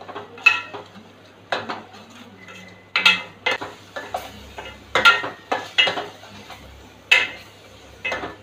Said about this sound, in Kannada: ಒಂದು 2 ನಿಮಿಷ ಇದೇ ಥರ ಫ್ರೈ ಮಾಡಿ.